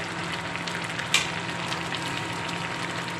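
Turmeric and chili powder go into a hot pan of oil while cooking taro leaves with garlic, giving a faint, steady sizzle with one brief, sharp crackle burst early on.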